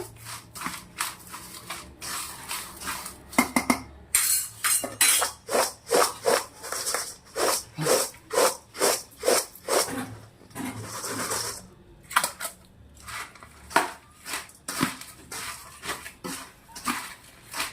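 Puffed rice for jhalmuri being tossed with mustard oil in a bowl, a rhythmic series of dry rustling, scraping strokes repeated steadily at close range with no talk.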